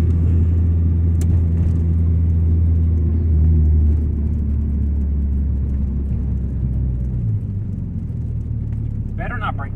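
A Volkswagen MK2 GTI engine drones loudly and steadily from inside the car, dipping in pitch partway through, with road rumble underneath.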